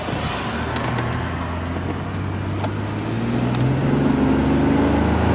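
A Buick Lucerne's GM 3.8 engine running after a throttle body replacement, a steady low rumble close by that climbs gently in pitch toward the end as it picks up revs.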